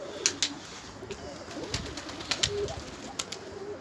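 Several pigeons coo nearby in low, throaty warbles, with sharp clicks and rustles of movement scattered throughout.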